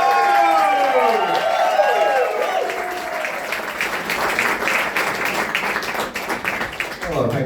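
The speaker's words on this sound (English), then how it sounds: "will you put your hands together, start the clapping now?" A comedy club audience claps and cheers loudly for an arriving comedian, a dense burst of applause with whoops that settles into steady clapping, with a voice over it at the start.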